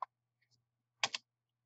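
A few computer keyboard keys are pressed for a shortcut: one isolated click, then a quick double tap, close and faint in an otherwise quiet room.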